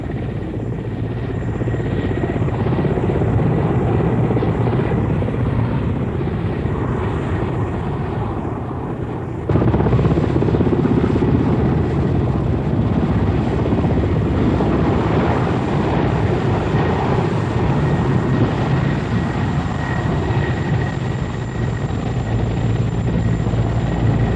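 An Indian Air Force helicopter drones loudly and steadily nearby, its engine and rotor noise continuous, with an abrupt shift in tone partway through.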